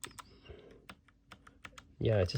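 Low-profile mechanical keyboard keys clack in a quick, uneven run of distinct close-up strokes, and a person's voice cuts in loudly at the very end.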